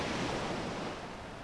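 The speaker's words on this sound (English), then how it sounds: "So this is the beach here." Ocean waves wash in a small beach cove as a steady, close, broadband rush of surf with some wind, lasting a second and a half with no voices.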